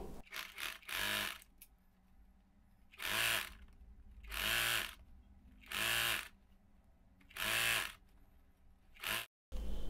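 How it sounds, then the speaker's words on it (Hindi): Sewing machine stitching a seam on a frill saree in several separate bursts of fast, close, whirring stitches, each lasting about a second, with quiet pauses between them. "अब आधे इंच का मार्जिन लेके सिलाई लगा रहे हैं"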